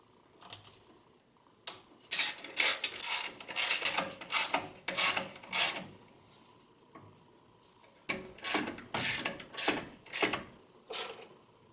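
A ratchet clicks in quick bursts while tightening the nuts on lightweight underdrive pulleys on a Subaru engine, several runs of close, sharp ratcheting separated by short pauses, with no talk.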